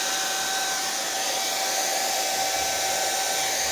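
A hair dryer runs steadily throughout, blowing across wet acrylic pour paint to spread the design, a constant loud whooshing hum with no talk.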